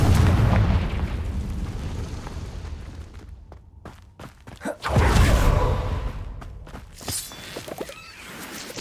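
Two heavy booming blasts from the Confringo spell in Hogwarts Legacy, one at the start and another midway. Each rumbles loudly and decays, with scattered crackles and lighter impacts between them.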